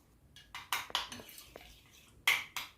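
Flour and water being stirred into a glue paste in a bowl for sealing samosas, with irregular clinks and scrapes of a utensil against the bowl, close and fairly quiet.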